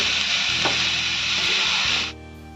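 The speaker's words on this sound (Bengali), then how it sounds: "তার মধ্যে আমি তরমুজের এগুলো দিয়ে দেবো কিছুক্ষণ নাড়াচাড়া করে ভেজে নেব" Watermelon peel fries in ghee with cloves for a halwa, a steady bright sizzle that holds close and loud before dropping off abruptly near the end.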